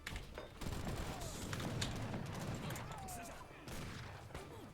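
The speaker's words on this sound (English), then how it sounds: "I'm trying to get out a couple of pot shots there" Gunfire volleys in the Age of Empires III: Definitive Edition strategy game, a dense, continuous crackle of musket shots and thumps running throughout at steady loudness, with no talk over it.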